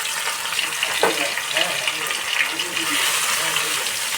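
Garlic and green chili paste hitting hot ghee for a mutton dish, a steady, close, watery sizzle and crackle running throughout, with someone talking over it.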